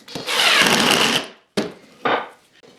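A power drill drives a wood screw into a box joint jig, a loud close whirring run of about a second, followed by two short bursts as the screw is seated.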